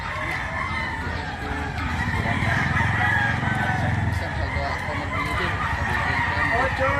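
Roosters crowing repeatedly amid clucking chickens, loud and close, with overlapping calls over a busy background of flock noise.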